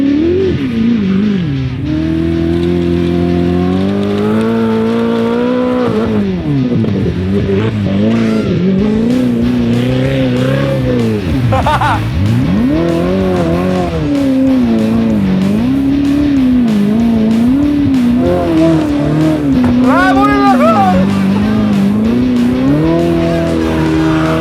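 A car with a newly fitted exhaust roars across open fields, engine loud and close throughout, revving up and down in sweeping pitch changes with occasional tyre squeal, no talking over it.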